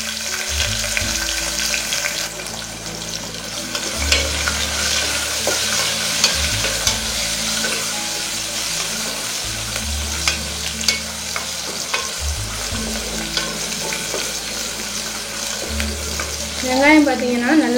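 Shallots and garlic sautéing in a pan, with a steady sizzle and repeated scraping stir strokes throughout, loud and close, with no talking.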